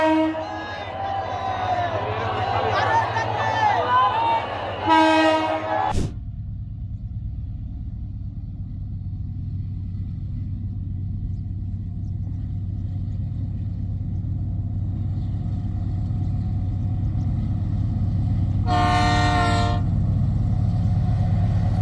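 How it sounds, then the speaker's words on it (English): A long loaded freight train rolls past with a steady low rumble and rhythmic wagon clatter, punctuated by two short horn-like tonal blasts, one early and one near the end, while a voice speaks at the start. "This train looks endless, and each loaded wagon can weigh around 80 tons."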